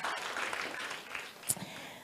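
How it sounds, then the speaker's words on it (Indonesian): A church congregation applauds briefly during a sermon, a short, faint patter of clapping with a soft background voice. "Beri tepuk tangan yuk buat Tuhan kita yang luar biasa."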